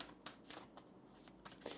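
A deck of tarot cards is shuffled close up. Soft, quick riffling bursts come in an uneven rhythm, faint and alone with no speech.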